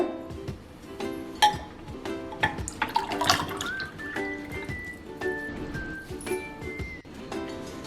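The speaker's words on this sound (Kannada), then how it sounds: "ಇದನ್ನಿವಾಗ ಸರ್ವಿಂಗ್ ಗ್ಲಾಸಿಗೆ ಹಾಕೋಣ" Barley water is poured into a serving glass with a splashy, trickling stream and small drips. The ringing tone rises in pitch as the glass fills.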